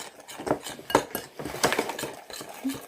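A utensil clinks and scrapes against a bowl while fried taro is mixed with a little coconut milk and water, giving irregular close-up knocks and stirring sounds with no talking.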